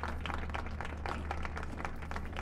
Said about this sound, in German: Großen Applaus für Herr Dr.